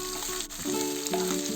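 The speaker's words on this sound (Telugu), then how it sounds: "కాకరకాయ మనకి బాగా వేయించుకోవాలి." Bitter gourd pieces fry in a pan with a steady, close sizzle, interrupted by a few brief stirring scrapes, and no one talks over it.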